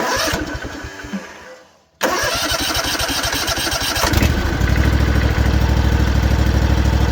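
A Kawasaki FR730V small engine cranks with a rapid chugging rhythm, pauses briefly, cranks again, then catches and revs into a loud, steady running roar.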